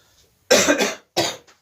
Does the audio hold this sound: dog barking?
no